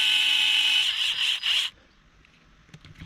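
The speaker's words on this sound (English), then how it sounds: "get some power tools." A loud, high-pitched power tool whines steadily for under two seconds, briefly dipping once, then cuts off, leaving faint clattering afterward.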